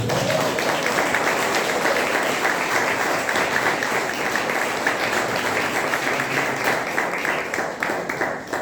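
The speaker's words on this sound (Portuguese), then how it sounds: "Palmas para o Senhor Jesus" Sustained applause fills a church healing and miracles service, dense clapping from a congregation holding steady throughout with faint voices mixed in.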